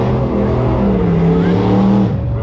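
A drag racing car with a 350 engine and a supercharger on top drones loudly and close, its deep harmonic growl holding steady and then shifting pitch as the revs change near the end.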